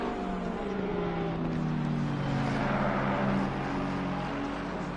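Race cars in a video game race at Zolder, including a McLaren and a green Porsche, roar steadily in a pack with layered engine drones throughout, loud and continuous with no voices.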